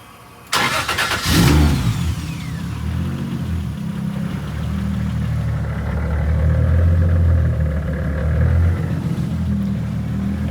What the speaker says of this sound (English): First things first, we got to make sure the car still starts.